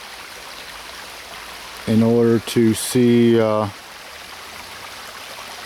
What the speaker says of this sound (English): So it's flowing down at, well, it's a gradual grade, so it's flowing down quite nicely